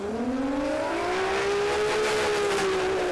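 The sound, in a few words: Barra-powered Fox body Mustang drag car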